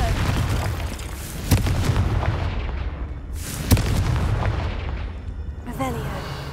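Spell blasts from the Confringo fire curse in a wizarding-school video game, two sharp booming bursts about two seconds apart over steady ambient game noise, with a voice speaking briefly near the end.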